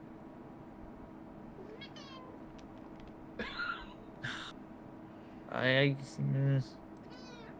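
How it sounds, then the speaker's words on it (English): A pet cat lets out several short meows and a couple of louder, drawn-out cries spread through a quiet room, with people talking faintly in between. "Was that you or your cat making those noises?"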